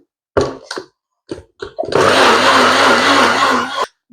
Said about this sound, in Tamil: கொஞ்சமாக தண்ணி சேர்க்கிறேன் இப்போ வந்து மூடி போட்டு நல்லா அடிச்செடுக்கணும்